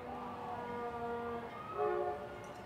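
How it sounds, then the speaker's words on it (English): A train whistle sounds in the background at a women's college soccer quarterfinal, NC State against Louisville, with several sustained tonal blasts over about two seconds, then a brighter second blast near the end, set against steady crowd ambience. "You hear the whistles of the train in the background."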